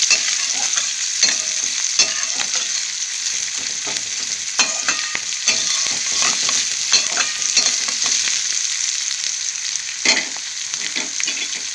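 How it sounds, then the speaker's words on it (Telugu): Cut pieces of sarikanda (a root vegetable) frying in a pan give a loud, continuous sizzle, with frequent scraping clicks of stirring throughout; no speech is heard. "ఫ్రై అవుతుంది కదా తరిగాక ముక్కలు వేసేస్తున్నాను"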